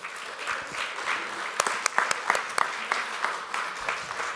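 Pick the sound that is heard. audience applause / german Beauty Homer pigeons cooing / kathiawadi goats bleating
audience applause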